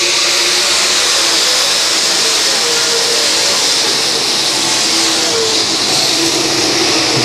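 Dirt track race cars accelerate together on a green-flag restart at Monett Speedway, a loud, steady wall of engine roar with rising revs and continuous broadband noise, no voices.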